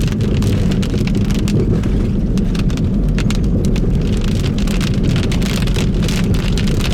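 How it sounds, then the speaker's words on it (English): Heavy rain pours steadily during a thunderstorm out in open Nevada desert country, a loud dense hiss with a low rumbling undertone throughout. "it's looks like a storm's rolling in"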